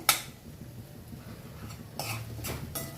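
Potato pieces go into a pan for a potato and mango curry, with a sharp clatter at the start and a few more scraping clinks and rattles later, close and moderately quiet, with no talking.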